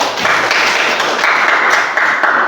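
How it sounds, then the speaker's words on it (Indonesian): Classroom applause for a student during a pharmacy lesson, a steady burst of many hands clapping close by for about two and a half seconds, with no talk over it. "tepuk tangan buat temannya"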